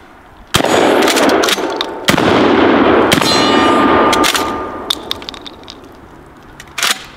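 Loud blasts from a double-barrel pump shotgun loaded with hot rounds: sharp reports with metallic ringing tails and clanking action, spaced irregularly with a final shot near the end, no talking.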